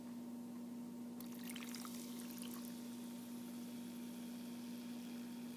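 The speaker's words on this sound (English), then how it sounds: "I'm going to put water into it." Water pours and fizzes into dry clay, a brief crackling burst over a steady low hum that continues throughout.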